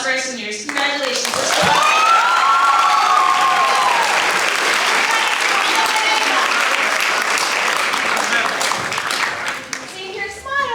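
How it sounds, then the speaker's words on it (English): A loud, full audience applauds graduating seniors at a school new play festival, sustained clapping with whoops and cheering voices mixed in throughout. "let's give another huge round of applause for our seniors"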